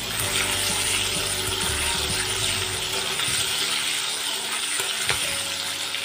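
Prawns frying in hot oil, a steady loud sizzle and crackle in the pan, close and continuous, with no talk over it.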